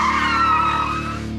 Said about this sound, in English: Quick swerve one way, cut hard the other,